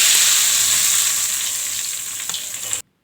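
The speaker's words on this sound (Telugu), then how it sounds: "పొయ్యి సిమ్లో పెట్టి ఈ విధంగా దూరగా వేయించుకోవాలి" Tempering spices for a bodamakaya dal fry in hot oil on a low flame, a loud, steady sizzle up close that eases slightly before cutting off abruptly.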